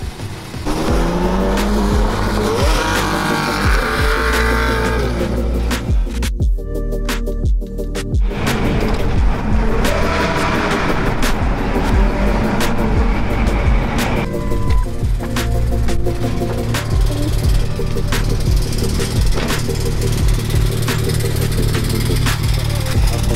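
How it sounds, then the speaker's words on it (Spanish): Porsche GT3 sports car driving on the road, its engine sound rising and falling steadily, close and loud for the whole stretch, with occasional voices heard beneath it. "Explicarles lo que se siente manejar un Porsche."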